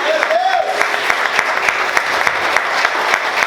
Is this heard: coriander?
no